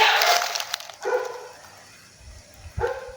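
A dog barks a few times from a distance, faint and scattered, over outdoor background noise with no talking.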